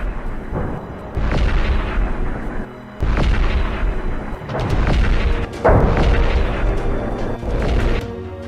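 Heavy artillery fire and explosions over a Falklands War position, with repeated deep booms and rolling blasts that surge and decay over several seconds, loud and continuous.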